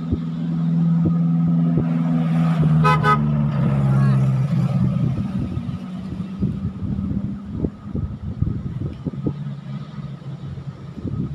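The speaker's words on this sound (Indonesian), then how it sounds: "Satu bus Damri tadi yang lewat" A Damri bus passes on a road in western Bengkulu, a low engine drone swelling then fading with a short horn toot early on, followed by lighter roadside noise.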